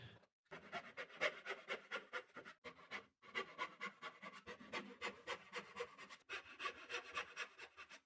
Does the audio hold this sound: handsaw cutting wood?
yes